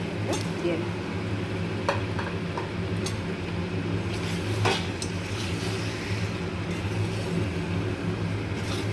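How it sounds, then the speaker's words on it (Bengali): Marinated meat and tomato sizzle in a pan under a low, steady frying hiss, with a few sharp clinks of a utensil against the cookware and a voice talking briefly. "এবার আমি ম্যারিনেট করা মাংসগুলো দিয়ে নেব।"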